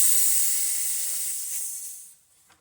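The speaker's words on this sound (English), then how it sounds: "That's all the pressure that was in this line." Compressed air hisses loudly out of an air rifle's fill line as the valve is opened, a steady rush that fades over about two seconds before ending in a small final puff.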